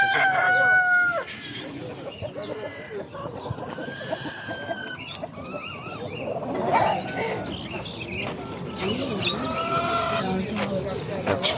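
Roosters crow amid a busy Edirnekapı poultry market, with clucking fowl and pigeons around; several crows ring out over steady crowd chatter and nearby voices.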